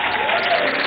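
Students in a classroom give their principal a round of applause, a steady dense patter of clapping filling the brief moment at even loudness with no pauses.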